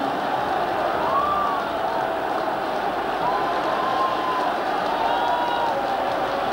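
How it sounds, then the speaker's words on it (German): A large stadium crowd roars and cheers without a break at a Bundesliga football match between Eintracht Frankfurt and Hansa Rostock in Duisburg, a dense, distant wall of sound with whistles rising above it. "auch wenn hier der große Jubel aufbraust"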